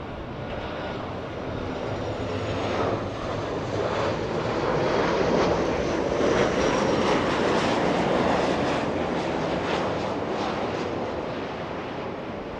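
A passenger airliner arriving from New Orleans roars past at Los Angeles International Airport, a broad, steady jet rumble with wind buffeting that swells to a peak mid-way and then holds.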